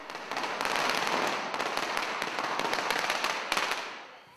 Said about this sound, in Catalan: han fet esclatar una traca de petards al terrat